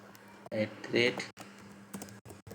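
Computer keyboard typing while writing Laravel Blade template code, a few clustered keystroke bursts with short pauses between them, close and moderately loud, with quiet talk in the background.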